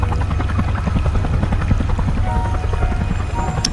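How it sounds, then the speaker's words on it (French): Low-flying shuttle craft skimming over buildings as a sci-fi sound effect, a steady loud rotor-like chopping drone with a dense rumbling low end that holds constant throughout. "La navette s'approche de Fort Nebraska en quelques minutes en rasant les immeubles."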